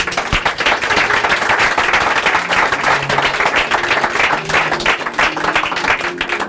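A church congregation claps and cheers for Jesus, a loud, dense wash of applause that stays steady for several seconds with scattered shouts mixed in.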